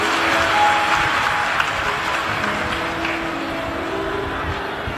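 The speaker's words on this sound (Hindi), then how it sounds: "यजमान परिवार के लिए एक बार जोरदार ताली बजाकर स्वागत" A large gathering at a Shiv Mahapuran religious discourse claps loudly to welcome the host family, a sustained wash of applause with a faint held tone underneath, tapering slightly toward the end.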